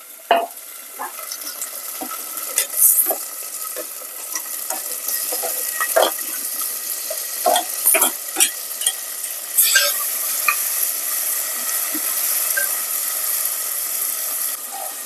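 Bottle gourd curry with tomatoes sizzles steadily in a pan for the whole stretch, and a spoon scrapes and clinks through it now and then as it is stirred. No one speaks.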